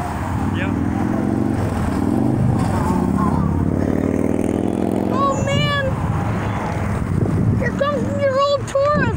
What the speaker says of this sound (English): Here come all the cars, folks! And plus a motorcycle!